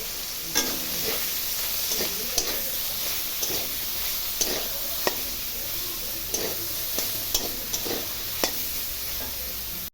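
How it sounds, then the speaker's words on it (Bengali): Soybean chunks sizzle steadily in hot oil with salt, a constant close hiss broken by sharp scraping clicks of a spatula stirring the pan at irregular intervals. "একটু লবণ দিয়ে সোয়াবিনটাকে ভেজে খাবো।"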